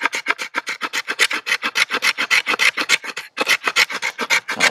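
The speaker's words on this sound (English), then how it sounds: "Let's try the spine on this thing. It's kind of a good sharp spine for scraping." The sharp spine of an Allegheny Knifeworks M38 bushcraft knife scrapes fatwood in quick, rhythmic rasping strokes, about five per second, loud and close, with a brief pause before the scraping resumes.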